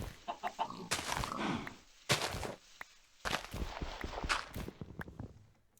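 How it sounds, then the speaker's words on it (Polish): Minecraft chickens cluck in short bursts over soft blocky footstep sounds, with quiet gaps between the game noises and no speech. "O, drugi kurczak."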